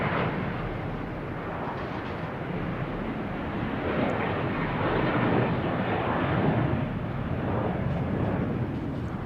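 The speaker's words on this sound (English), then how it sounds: "We got American Airlines taking off." An American Airlines Boeing 737-800 takes off from Boston Logan, its engines a steady, loud broadband roar that swells slightly midway, heard alone without voices.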